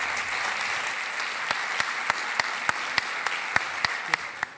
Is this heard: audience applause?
yes